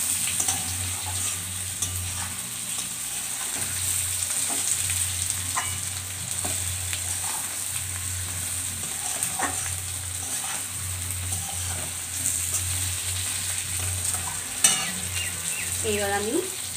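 Onions and pointed gourd fry in a pan with a steady, continuous sizzle, broken by occasional scrapes and clinks as a utensil stirs the pan, and a low hum running underneath.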